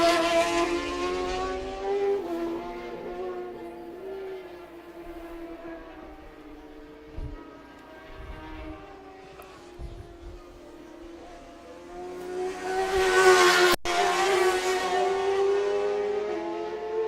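Pro Superbike race motorcycles circle a track in a race with five laps left. Engines whine past one after another, rising and falling in pitch, with a loud close pass that swells and cuts off near the end.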